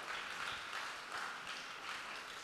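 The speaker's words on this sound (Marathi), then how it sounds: "आपण जोरात टाळ्या वाजवून तुमच्या सगळ्यांचं अभिनंदन करू." Faint, steady applause from parents and children in the audience at a children's program at St. Thomas Church, a distant wash of many hands clapping at an even level with no voices above it.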